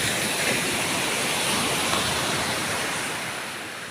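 Sea waves roll onto a small beach in Phuket, Thailand, giving a steady, broad, continuous wash of surf at fairly close range that fades slightly toward the end, with no voices.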